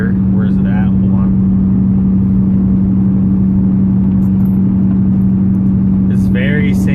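An LBZ diesel pickup truck's engine hums at a steady, even pitch while driving, loud and constant. Someone talks briefly over it at the start and end.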